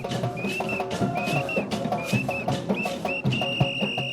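Repeated shrill whistle blasts from the Amo do Boi, master of a Boi folk festival, ring out over loud drumming and percussion, with a long final whistle near the end.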